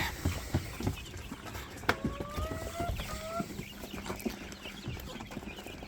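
A hen clucks while pecking at wheat and corn, giving a few drawn-out calls in the middle among sharp pecking taps and shuffling, close by, with no one talking.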